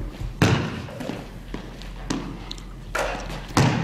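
A basketball bounces during a casual game of shooting hoops, giving about five separate thuds at uneven intervals, moderately close, with faint talk in the background.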